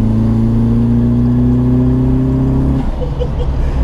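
A turbocharged Renault Clio 182 with about 325 bhp accelerates on boost, its engine droning loud and close with steadily rising tone before easing off near the end, a voice briefly audible over it.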